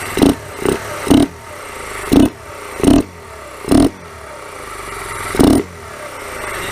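A modified Kawasaki Z125 motorcycle with a louder intake than exhaust gets a series of about eight short, sharp throttle blips, each rev rising and dropping quickly over a steady idle, close and loud.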